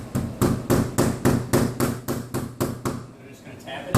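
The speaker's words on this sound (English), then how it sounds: "I'm going to take my rubber mallet." Rubber mallet tapping a vinyl replacement window into its frame, about a dozen evenly spaced dull knocks, close and fairly loud, slowing and fading at the end.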